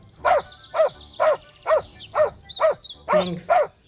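A dog barks repeatedly on a walk, about eight sharp, evenly spaced barks close by, with faint high whines between them.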